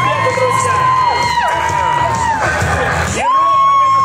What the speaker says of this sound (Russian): Давайте поаплодируем просто Паше, поприветствуем его